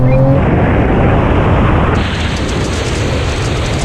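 An 1100 hp Nissan GT-R, a Porsche 911 Turbo S and a rallycross car accelerating hard in a rolling drag race, loud sustained engine roar that eases slightly partway through, with no talking.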